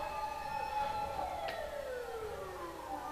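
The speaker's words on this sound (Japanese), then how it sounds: "救急車が通り過ぎるの待とうかな" A wailing ambulance siren passes by outdoors at moderate distance, its tone sweeping and then falling in pitch as it moves away, with no talk.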